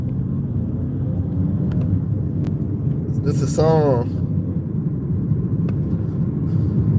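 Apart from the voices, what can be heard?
car driving, interior road noise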